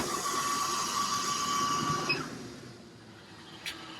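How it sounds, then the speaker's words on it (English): A MaxxAir roof vent fan in a Promaster 3500 van gives a steady whirring hum with a faint high whine for a couple of seconds, then winds down and cuts off, followed by a quiet click. "We've got a MaxxAir Fan up here above. I'll turn it on real quick"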